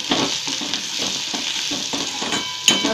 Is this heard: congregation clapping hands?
no